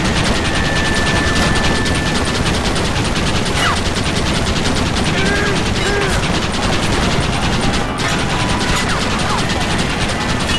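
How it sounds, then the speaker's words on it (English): Rapid, sustained gunfire from a mounted Gatling gun in the Western video game Red Dead Redemption, a dense rattling stream filling the whole stretch with scattered louder reports and brief mechanical whines, with no gaps. "Should get on the Gatling gun for sure."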